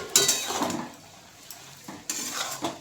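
A spoon stirring spinach curry with yogurt in a pan, scraping and clinking against the metal in a few short bursts with pauses between, close and fairly loud.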